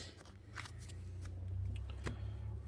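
A short, close riffle of trading cards being shuffled back into a Yu-Gi-Oh Exodia deck, a quick papery flutter over a low background hum, with no talking.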